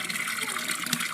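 A 12-volt DC solar water pump pours a steady stream of water, a continuous close splashing gush that holds an even level from start to end.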